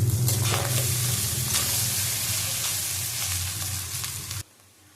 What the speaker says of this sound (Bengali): নাড়িয়ে নেবো আবার